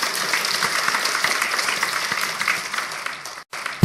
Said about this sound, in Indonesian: Anda boleh tepuk tangan untuk kebenaran ini